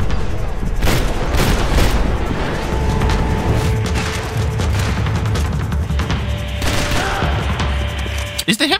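Gunfire from hip-fired weapons in Max Payne 3 rattles in loud, dense bursts and booms across the whole stretch, layered with game noise and mechanical clatter.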